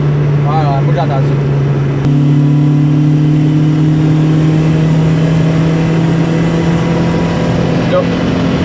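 Honda Civic Si engine revving up to roughly 6000 rpm, a loud sustained drone that steps up sharply in pitch partway through and holds; a brief voice is heard near the start.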